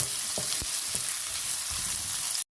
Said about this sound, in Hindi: प्याज को ब्राउन होने तक, लाइट ब्राउन, डार्क ब्राउन नहीं, लाइट ब्राउन होने तक हम इसे इसी में भूनेंगे।